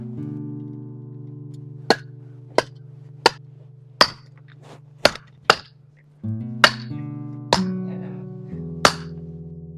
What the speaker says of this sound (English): I'll get out the sledgehammer and we will pound stakes into the ground.